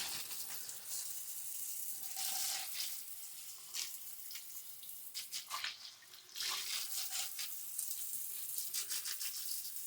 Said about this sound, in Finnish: Ihan näin vaan sitten lasketaan tuohon pumpun päälle, huuhotaan sitä noin.